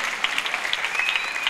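Congregation at a church gathering in Goma clapping together in a quick, lively burst, close and fairly loud, with many distinct hand claps over a crowd wash.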